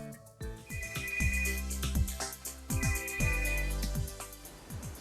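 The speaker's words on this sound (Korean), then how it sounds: "전화 왔습니다." A telephone rings in repeated bursts, a bright electronic ringtone pattern that pauses briefly and starts again, loud and close with no voices.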